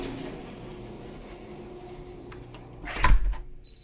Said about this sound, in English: I'm going to hit it again and it opens it up again.